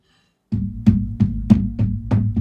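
Someone knocks repeatedly on a heavy aluminium custom keyboard body, giving about six solid, resonant thuds in a steady rhythm, close and fairly loud, with each knock ringing briefly into the next.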